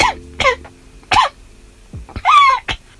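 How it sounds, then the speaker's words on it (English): A person coughing up close, three or four sharp separate coughs spaced out over a few seconds with quiet in between, no talk. "I get to cough"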